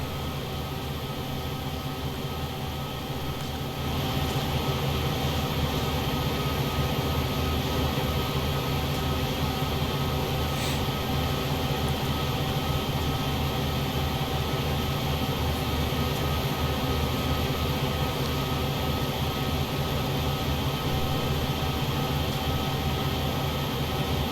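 Two SD40-2 diesel locomotives, 3000 horsepower each, run steadily in Train Sim World on Sand Patch Grade, producing a continuous droning engine hum with a broad rushing noise that swells slightly after the start.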